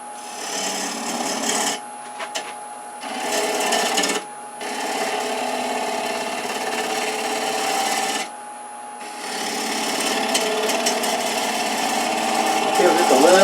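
A wood lathe turns a crepe myrtle bowl as a gouge shapes its outside, the tool scraping and rasping across the spinning wood in several bursts separated by brief pauses, close and steady.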